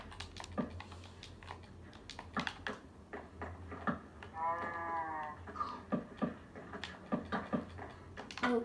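In a video game, a sheep gives a short, wavering bleat midway through, surrounded by rapid clicking taps and scattered clatter that dominate the rest of the stretch.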